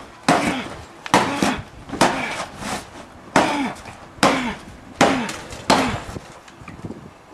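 An axe chops into wood to cut out a square, with seven sharp, loud chops at an uneven, steady pace, each followed by a brief ringing decay, close up and without talk.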